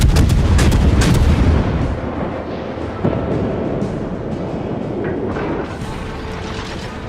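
Heavy naval artillery fire from World of Warships during Operation Cherry Blossom, a loud dense barrage of booming shots rolling continuously with a sharper report midway.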